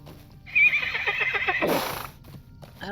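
A horse whinnies loudly and close at hand in the Middle-earth game LOTRO, a drawn-out neigh with a breathy snort at the end, and hoof clip-clops follow it.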